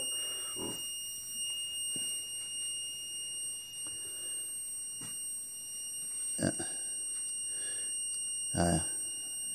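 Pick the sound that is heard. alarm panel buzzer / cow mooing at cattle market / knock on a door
alarm panel buzzer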